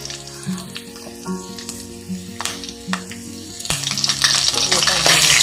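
Green and dried chillies and whole garam masala fry in hot oil in a pan, with scattered stirring scrapes at first, then a louder, continuous sizzle that swells near the end.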